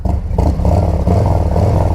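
A 2024 Harley-Davidson Road Glide with a Stage 1 exhaust gives a loud, close, gruff engine rumble that surges and throbs steadily without a break.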